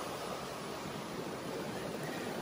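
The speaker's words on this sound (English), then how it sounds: "You can see the water moving very quickly past here." Fast river water rushes steadily past a bank at a barramundi fishing spot, a constant broadband hiss and roar with no breaks, close and fairly loud.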